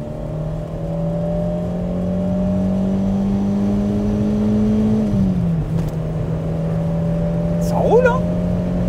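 Audi Quattro engine held at high revs as the car pulls hard in second gear, a loud steady drone that briefly drops and rises again, with people speaking over it.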